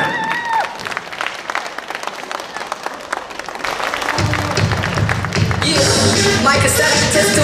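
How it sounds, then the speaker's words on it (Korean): An event crowd applauds an aerobics dance team coming on stage, steady clapping and tapping from many people that continues as music with a deep beat starts up partway through. "박수 부탁드립니다"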